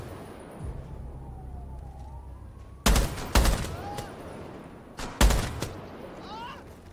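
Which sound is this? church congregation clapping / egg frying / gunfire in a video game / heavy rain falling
gunfire in a video game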